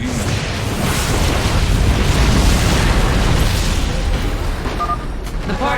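Particle cannons explode in a StarCraft II cinematic battle, a loud, sustained rumbling blast with deep booming and crackling debris that roars continuously throughout, thinning slightly toward the end.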